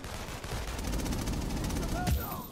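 Rapid gunfire from a gun in the video game Second Son, a fast continuous burst of loud shots mixed with game noise and a voice, ending in a sharp crack.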